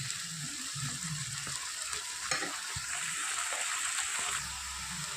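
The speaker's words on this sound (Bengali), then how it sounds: "ভালো করে মশলাটা কষিয়ে নেব।" A paste of ginger, onion, garlic, dried chilli and black mustard seeds fries and is stirred in a hot pan. A soft, steady sizzle runs under irregular low scraping and stirring thumps.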